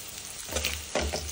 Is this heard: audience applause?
no